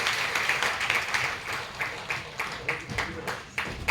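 Audience in a school auditorium at a booklet launch breaks into brief applause, with quick, uneven claps pulsing over a murmuring background before it tapers off.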